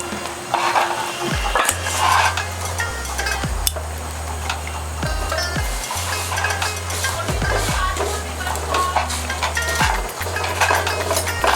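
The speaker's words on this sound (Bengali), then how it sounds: "এভাবে একটু চেপে চেপে পুরো পাউডারটা ভেজে নেবে" Spice powder for chilli chicken is pressed and fried in a pan, heard as repeated scraping and clattering of a utensil against the pan over a faint, steady sizzle.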